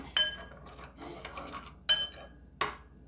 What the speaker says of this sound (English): Just stir it together to make sure that the cornstarch is nicely incorporated